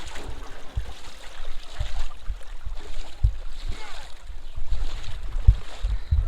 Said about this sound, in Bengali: এই যে বন্যায় প্লাবিত আমাদের এলাকা পানির স্রোত দেখেন পানি কিন্তু দক্ষিণ দিকেই যাচ্ছে